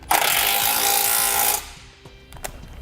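A 17mm socket drives bolts on a Roadmaster crossbar-style base plate kit, producing a loud, continuous mechanical burst of about one and a half seconds, followed by a few faint clicks and knocks.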